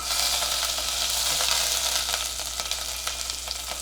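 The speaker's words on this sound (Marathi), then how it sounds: "इथे आता आपलं तूप वितळलंय त्याच्यात थोडंसं जिरं या दोन हिरव्या मिरच्या आहेत त्या घालते" Cumin seeds and two green chillies sizzle in melted ghee, a loud, close, steady crackling hiss with small pops, alone and unbroken for a few seconds.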